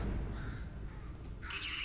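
A crow caws in the video game Portal 2, a short, faint call set against a low, rumbling background hum.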